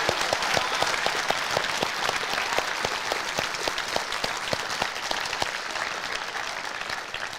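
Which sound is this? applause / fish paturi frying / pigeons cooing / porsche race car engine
applause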